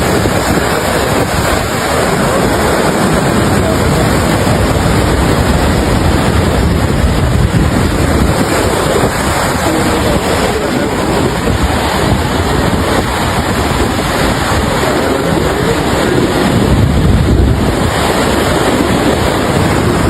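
Water rushes through the gates of the Kosi dam, where 33 gates release a heavy flow. The roar is loud and continuous, a dense broadband wash with wind buffeting the microphone and no voices.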